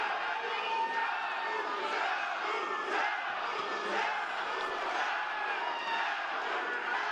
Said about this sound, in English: Crowd cheering Kaboom in support of their man, Oscar Rivas.